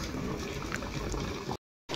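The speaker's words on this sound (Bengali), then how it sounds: "আমরা শুধু এই কেটলিটা মানে ইউজ করছি ডিম সিদ্ধ চা করার জন্য" Electric kettle boiling water in a hotel room for eggs and tea, a steady bubbling, rumbling churn up close that cuts out briefly near the end, then resumes.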